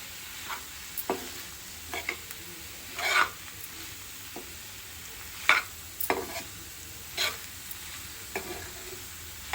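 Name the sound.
stirring paneer bhurji in a pan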